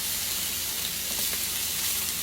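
A hamburger patty searing in a hot pan gives a dense, even sizzle throughout, close and steady, with no voices.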